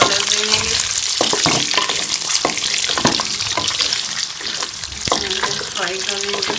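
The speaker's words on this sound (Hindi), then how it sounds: "अब इसमें हम ये आलू जो है वो फ्राई कर लेंगे।" Potatoes fry in ghee in a pan for Kashmiri dum aloo, with a loud, close, continuous sizzle. Scraping clinks of stirring break in now and then.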